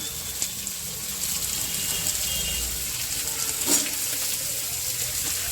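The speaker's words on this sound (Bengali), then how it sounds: "করে দিয়ে সব সবজিগুলো আমি ভেজে নেব। মূলোটা দিয়ে দিলাম" Chopped vegetables, including radish, fry in an oiled pan with a steady, close hiss that runs unbroken throughout, marked by a single faint clink partway through and no voices.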